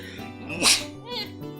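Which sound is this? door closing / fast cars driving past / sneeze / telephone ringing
sneeze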